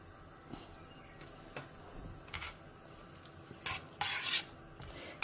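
Dissolved jaggery is stirred into a cooking pot with a utensil, giving quiet scraping and clinking strokes over a faint background hiss, with a louder scrape near the end.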